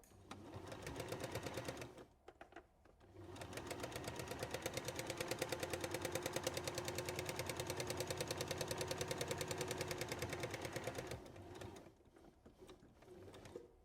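A sewing machine runs a zigzag stitch around the edge of a fabric bowl, its rapid even needle rhythm droning for about two seconds, pausing briefly, then running steadily for roughly eight more seconds before stopping.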